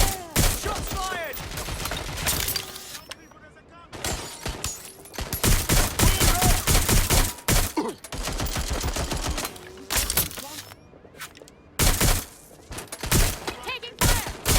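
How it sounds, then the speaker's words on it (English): Rapid gunfire bursts from a firefight in the video game Watch Dogs Legion, dense volleys and single shots crackling close and loud in clusters, with brief lulls between, while voices call out over the shooting. "Shots fired!"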